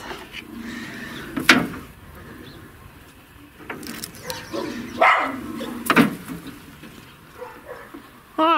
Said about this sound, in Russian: поэтому они гавкают, да?